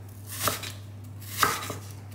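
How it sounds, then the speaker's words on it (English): Knife chopping onions on a cutting board, two distinct close thuds about a second apart with a fainter tap after, over a steady low background hum. "I'm chopping onions."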